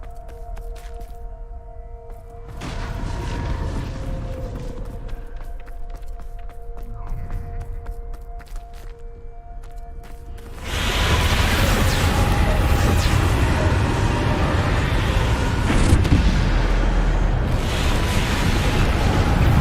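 A spell blast in Hogwarts Legacy erupts into a loud, sustained roaring rumble that swells abruptly and keeps booming for several seconds after softer magical tones and murmurs.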